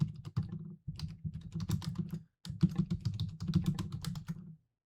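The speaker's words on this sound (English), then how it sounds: "I apologize if you hear my keyboard flapping back and forth." Computer keyboard typing during an OpenRCT2 roller coaster build, with rapid close clicking keystrokes in two dense bursts separated by a short pause, fairly quiet and with no speech over it.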